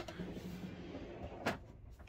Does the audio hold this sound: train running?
no